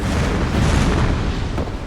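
Cannon fire in the video game Dark Souls 2, a loud, sustained booming blast that fills the short span with dense low rumble and no voice over it.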